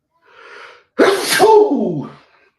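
A single loud, close sneeze comes after a brief soft inhale, sharp and explosive at the start and then trailing off, with no talking over it.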